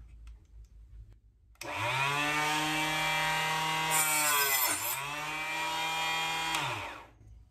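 A power saw cuts through small wood pieces clamped upright in a vise, starting abruptly with a loud steady whine that dips briefly mid-cut, then runs on before stopping near the end; no talking.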